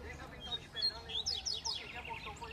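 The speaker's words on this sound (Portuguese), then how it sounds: "pra nós estar botando os coleiros pra cantar" Quick, bright chirping and twittering song of a double-collared seedeater rises over a low background murmur of voices, fairly faint and distant.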